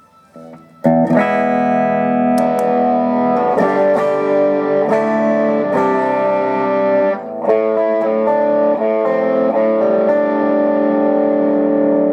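A distorted electric guitar through a Way Huge Green Rhino MkIV overdrive pedal rings out in sustained, overdriven chords, loud and alone, each strum fading into the next.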